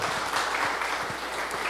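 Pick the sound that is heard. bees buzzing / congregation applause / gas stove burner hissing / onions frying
congregation applause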